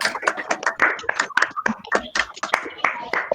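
An audience applauds at the end of a talk about the women's movement in Argentina, producing brief, dense, close-miked clapping from a small group.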